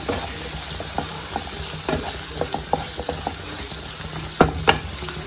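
Diced ivy gourd and bottle gourd frying in a pan as they are stirred, with a steady sizzle broken by irregular scraping and clinking strokes, two sharper knocks near the end.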